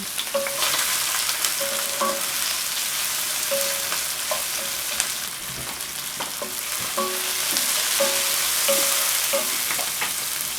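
Onion, garlic, pepper and scallion frying in oil for a Caribbean saltfish dish, a dense continuous hiss of sizzling with intermittent clinks and scrapes of a spoon against the pot, close and steady, no voices.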